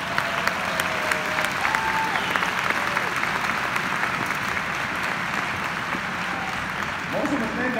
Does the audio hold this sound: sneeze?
no